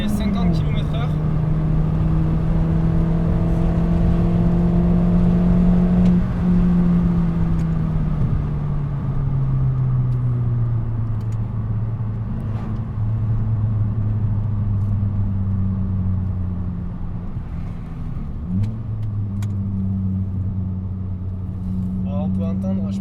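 A Mini Cooper R50 engine drones steadily, revving to 4000–5000 rpm, its pitch rising and dropping as it accelerates through gears past 50 km/h, with a voice talking in French over the rumble.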